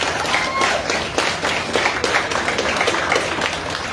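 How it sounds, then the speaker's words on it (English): Graduation audience applauding a class of 2021 graduate, a steady wash of many hands clapping at once, fairly loud and sustained throughout with no voices on top. "Let's give a round of applause for Ori."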